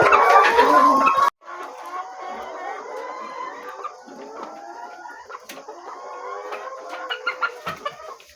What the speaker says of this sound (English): at this time of the hour of the evening is when I bring them these greens, okay? So that's why you see them making a lot of noise.